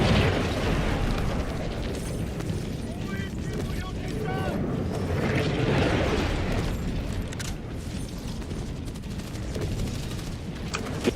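Minigun fire in a video game, a dense continuous roar of rapid shots and booms that stays loud throughout, with talking mixed in.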